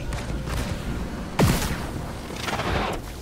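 Grenade blasts and gunfire in the strategy video game Halo Wars 2, with a sharp booming explosion midway amid scattered bursts of distant firing and battle noise.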